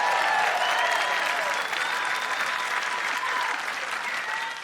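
A live comedy roast audience cheers and applauds loudly and steadily, a dense wash of clapping and whoops that holds strong before easing slightly at the end.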